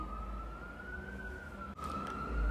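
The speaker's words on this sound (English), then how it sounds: "y'all hear the ambulance?" Ambulance siren outside, a faint steady wailing tone rising slightly in pitch, distant and muffled behind low traffic rumble, briefly cut by a soft knock.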